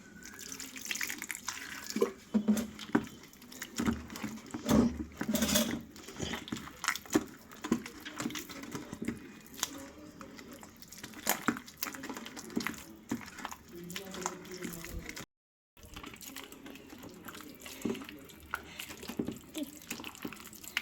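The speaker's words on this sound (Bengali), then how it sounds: "অনেকটা মাখা হলো তো এর মধ্যে আমি আরেকটু জল দিয়ে দিচ্ছি" Water runs and splashes into wood apple (bael) pulp being hand-mixed for a drink, a steady trickling pour with wet squelching, under a voice talking.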